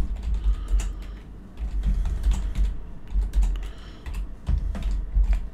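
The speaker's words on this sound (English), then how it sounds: "and then we can type" Rapid, irregular clicking of keys on a computer keyboard, close and clear, in uneven bursts of typing with short pauses and no voices.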